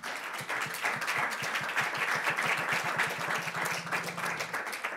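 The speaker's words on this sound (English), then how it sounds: "Please, a round of applause for them." An audience at a climate workshop for EPFL and UNIL alumni applauds its panelists, a room of clapping hands with one pair of close, rhythmic claps that speed up before trailing off.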